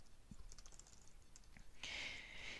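Typing on a computer keyboard while writing a blog post: soft, scattered key clicks at first, then a denser burst of brighter tapping near the end, fairly close and quiet, no talking.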